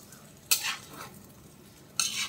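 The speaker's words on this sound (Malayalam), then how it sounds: "നമുക്കൊന്ന് ഇളക്കി" Chicken stir fry (chicken thoran) with curry leaves and spice powder being stirred in a pan, two brisk scraping stirs about a second and a half apart over a soft sizzle, close by, no voices.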